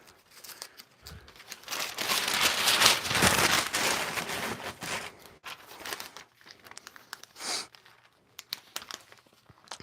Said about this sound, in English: Now we just need to fill it with packing paper.